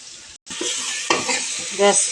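Salted chopped tomatoes being stirred and mashed in a hot pan for tomato rasam, a close, steady scraping sizzle with a brief gap and a few louder spoon knocks and squelches.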